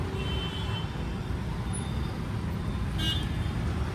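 Busy road traffic in an Indian traffic jam near a fuel pump, with a steady engine rumble throughout and short car horn toots around the start and again near the end, close and continuous.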